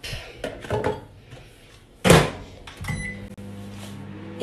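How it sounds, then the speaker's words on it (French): A microwave oven melting butter: clunks of the door opening and shutting, a loud thud, then the steady low hum of the oven running, close and without talk. "Je vais mettre ça à fondre au micro-ondes."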